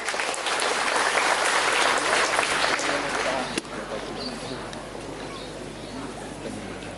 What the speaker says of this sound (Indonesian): Boleh beri tepuk tangan yang meriah,